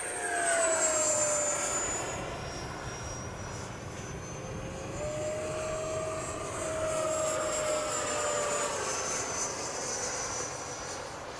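An FMS Rafale 80mm RC jet flies past at full speed, its high-pitched ducted-fan whine sweeping steadily across the sky with a constant loud roar and Doppler shifts as it passes.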